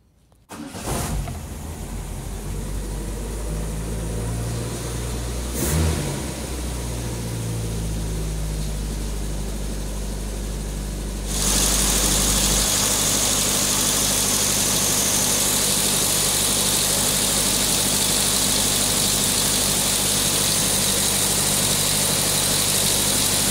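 A car engine running on cachaça fed from a bottle straight to the fuel pump, catching and idling steadily, then surging into a loud sustained rev that holds to the end, close and with no talk.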